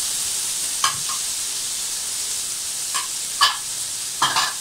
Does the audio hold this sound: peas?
yes